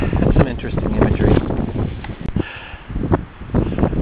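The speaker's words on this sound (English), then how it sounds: "The wind is gusting to 30 to 40 miles per hour." Strong gusts of wind roar and buffet the microphone high up in a tree about 100 feet above the countryside, with leaves rustling in loud, surging waves.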